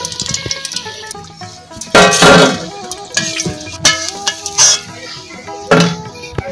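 Fried banana flower chops being lifted out of a pan, with loud close clinks and scrapes of a metal spoon against the pan over a faint sizzle, and a few sharp knocks.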